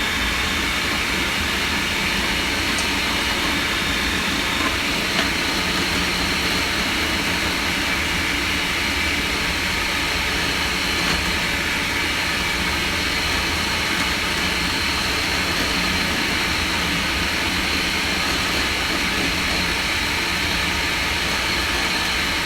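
An electric mixer runs steadily through cookie dough as arrowroot is added, a continuous broadband whirring drone that holds a flat, even level throughout with no pauses.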